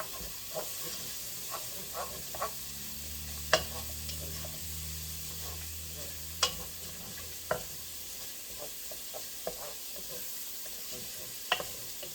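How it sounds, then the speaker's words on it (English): Onions fry in a pot with a steady, close sizzle and hiss, broken by several sharp clinks and scrapes of a utensil stirring at irregular intervals. "While the onions are cooking, I'll just put a bit."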